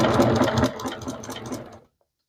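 A sewing machine stitching a scrappy quilt repair runs in a fast, close, buzzing whir of rapid needle strokes, then stops abruptly into silence.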